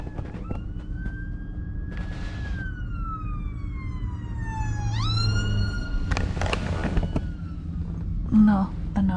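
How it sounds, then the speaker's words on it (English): An ambulance siren wails, rising and falling in long sweeps, passing fairly close, with traffic noise underneath and brief clatter near the end. "It's an ambulance."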